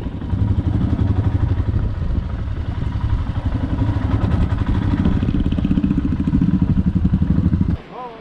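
Motorcycles ride along a road toward a river in Arunachal Pradesh, giving a close, loud, steady engine drone with rattling that continues for several seconds before cutting off abruptly near the end.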